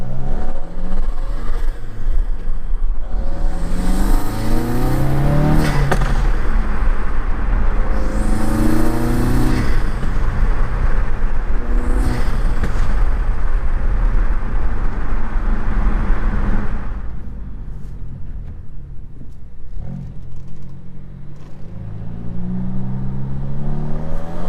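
A Ford Focus RS fitted with a Mishimoto intake revs loud and close, its engine note rising and falling through repeated throttle blips before settling to a quieter idle with a few final revs.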